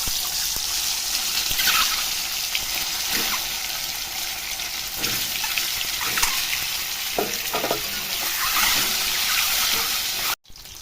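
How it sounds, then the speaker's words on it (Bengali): Boiled eggs coated in salt and turmeric fry in hot oil in a pan with a loud, continuous, crackling sizzle, scattered spatters and utensil scrapes, ending in a brief cut. "ডিম লাল করে ভাজা হয়ে গেছে।"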